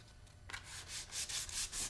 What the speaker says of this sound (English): Now we'll take some 220 grit sandpaper and do a little bit of sanding to sort of soften this edge